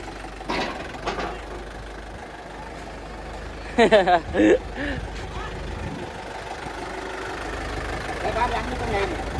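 A Yanmar 51 hp farm tractor engine runs at a steady mid-pitched idle and rev as it climbs onto a truck, with a brief louder burst partway through and people calling out over the mechanical drone.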